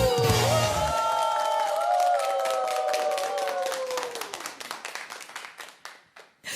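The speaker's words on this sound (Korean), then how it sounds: "예 박수" Audience clapping and applause after a song at a Korean seniors' music show, rising under a sustained final sung note, then continuing as scattered, thinning claps.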